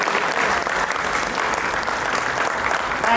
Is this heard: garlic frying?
no